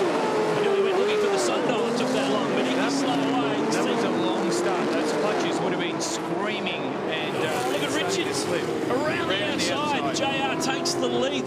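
Thirty classic touring cars at Bathurst, including Mustangs, an AMC Javelin, a Camaro and Falcons, roar off the start, engines revving and droning loudly together under a continuous excited race commentary.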